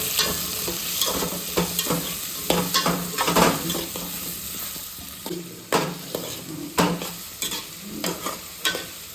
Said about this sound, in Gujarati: હવે આપણે તેમાં કાંદા એટલે કે ડુંગળી સમારેલી નાખી દઈશું